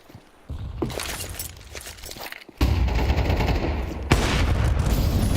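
Gunfire during a Counter-Strike esports match, close sharp shots and bursts of automatic fire, quieter at first and then a sudden loud sustained stretch with another sharp crack near the end, without talking.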